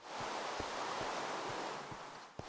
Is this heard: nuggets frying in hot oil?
no